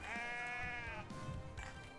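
A goat bleats in the video game I Am Bread, a long wavering cry that fills most of the moment, with faint game noise and a brief second bleat near the end.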